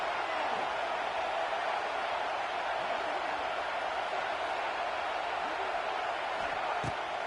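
A home crowd roars steadily at a college football game, with broad continuous noise held at an even level throughout, distant in character and without distinct individual voices.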